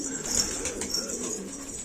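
A black Hardün pigeon coos softly in a loft, low murmuring calls running under a faint background hiss with a higher bird chirp near the start.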